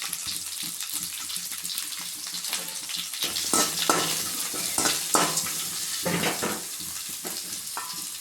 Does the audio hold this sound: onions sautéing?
yes